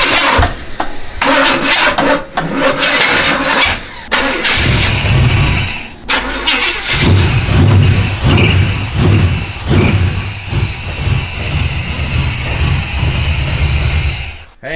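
A big black muscle car's engine cranks and catches after a troublesome rebuild, then revs and settles into a loud, rough, close idle with uneven throbbing pulses.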